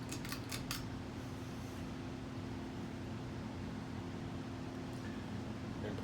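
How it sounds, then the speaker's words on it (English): CEC 701 Series 52-inch ceiling fan spinning on high speed, a steady, low broadband whoosh with a faint constant hum, a few quick clicks near the start. "And performance on high speed is pretty good."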